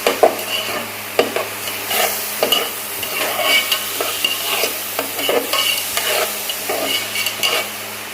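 Rice frying in hot ghee is stirred in a pan, giving repeated scraping strokes over a soft, steady sizzle, close and fairly loud, with no talking.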